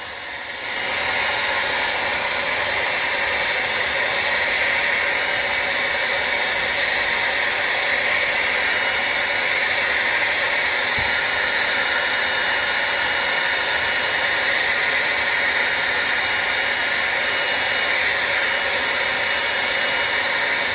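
A heat gun or hot air tool warms the casing of a Derbi Euro 2 engine so a bearing will fit, giving a steady, loud broadband whoosh that runs without a break.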